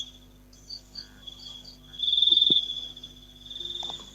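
Crickets from a cricket farm chirp in sustained high trills with a few louder pulsing bursts, faint and close in a quiet indoor room.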